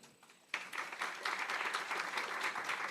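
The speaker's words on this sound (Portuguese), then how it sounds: "Vamos aplaudir." Audience applause breaks out after a health-outcomes conference talk, starting abruptly from near silence and continuing as a steady, dense patter of many clapping hands.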